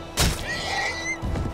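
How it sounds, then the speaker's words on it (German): A typical horse in the Magicka video game gives a short whinny-like neigh with a bright warbling tone, preceded by a thump and followed by a low rumble, heard alone. "It's just a typical horse."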